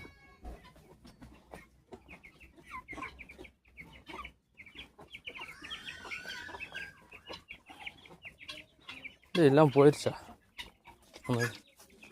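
Black and grey chickens cluck nearby, with a louder burst of squawking toward the end, while a person speaks quietly in Tamil over them.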